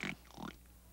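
A cartoon pig gives two quick nasal oinks close up, a short pair of grunts that fade into quiet.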